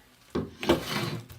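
A freshly sharpened hand plane shaves paper-thin wood shavings, two close, rasping strokes across the board, the second longer and fuller, heard alone.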